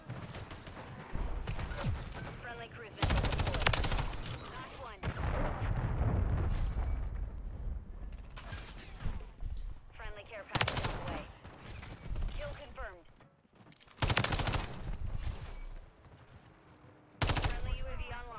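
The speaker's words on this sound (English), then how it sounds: "Friendly cruise missile deployed." Loud bursts of video game gunfire and explosions from a cruise missile strike, with crackling volleys and heavy booms. They come in repeated waves, some abrupt and close, with brief lulls between.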